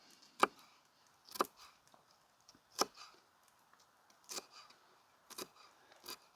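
Knife chopping jalapeno peppers into small pieces on a board outdoors at a woodland camp cook, six crisp, evenly spaced chops with quiet gaps between, close and alone.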